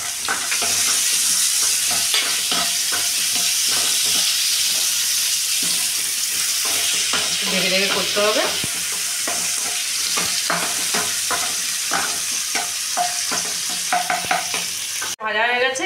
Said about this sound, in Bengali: আর দিয়ে দেবো কোচানো পেঁয়াজ